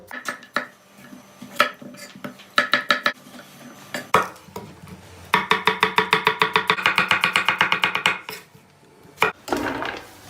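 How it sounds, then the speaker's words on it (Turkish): Potatoes are chopped on a board in a home kitchen, a run of loud, sharp knife strikes in quick, even bursts, with a few scattered taps between them and no speech. "Hem patateslerini doğrayacağız."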